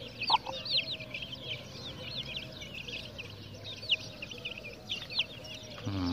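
Chickens and roosters in a flock clucking repeatedly, with steady chatter from several birds at moderate distance and no talk.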